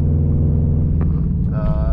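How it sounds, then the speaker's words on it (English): A Subaru STI with a broken exhaust gives a loud, continuous low rumble close by, with a higher whining tone rising out of it near the end. "the exhaust is extremely loud because it's broken"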